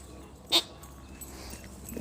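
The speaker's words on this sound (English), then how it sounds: "Oh, this dog." A dog gives a single short, sharp yip or whimper close by, then quiet background with faint movement noise.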